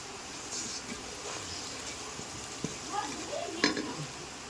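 Beef sizzles and is stirred in a pan with cumin, coriander powder and salt, a steady soft frying hiss broken by a few scraping stirs and light clinks near the end.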